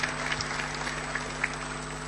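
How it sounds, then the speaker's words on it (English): An audience at a SADC summit opening gives a round of applause to welcome Comoros as a new member: soft, continuous clapping heard at a distance over a steady electrical hum, throughout the short stretch. "Shall we just give them another round of applause as a welcome to the SADC family?"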